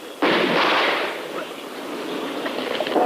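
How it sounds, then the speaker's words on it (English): Grenade explosion in a war film: a sudden loud blast that rolls into a long, broad rumble and debris-like roar lasting several seconds, with no talk over it. "Watch it, grenade, get down."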